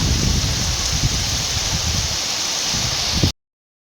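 Continuous rain falls heavily and evenly over hills under thick cloud, a dense steady hiss that holds for about three seconds and then cuts off abruptly.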